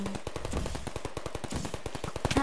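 Gunshots in a modded Minecraft Feed The Beast video game: a rapid, evenly spaced burst of sharp shots like automatic fire, fairly quiet and with no talking.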